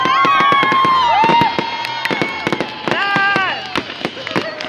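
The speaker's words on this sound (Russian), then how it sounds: "Ура! Салют!" A fireworks salute in Elektrougli bursts overhead in a rapid series of sharp cracks and pops, with whistling rising tones and excited voices shouting close by.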